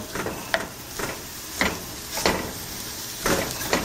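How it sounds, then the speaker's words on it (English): Sausage browning in a hot pan as a utensil breaks it up, heard as a steady series of scraping, smushing strokes over a low sizzle, close and fairly loud with no talking. "So now we're just going to break up the sausage. We're just wanting to kind of smush it around"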